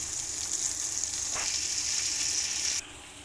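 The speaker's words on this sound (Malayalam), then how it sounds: "മീനെല്ലാം തിരിച്ചിട്ട് കൊടുത്തിട്ടുണ്ട്. ഈ വശം കൂടി ഫ്രൈ ആവട്ടെ." Fish frying in a pan, a steady bright hiss and crackle of hot oil that runs unbroken, then abruptly drops to a quieter sizzle near the end.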